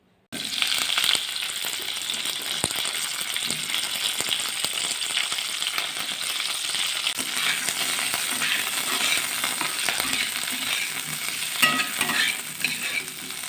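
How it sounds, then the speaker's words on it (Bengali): Okra (bhindi) frying in hot oil in a wok in a home kitchen: a steady, loud, close sizzle that runs the whole time, with occasional stirring clinks and no talking. "এবার ভেন্ডিটা ভালো করে ভেজে নেব"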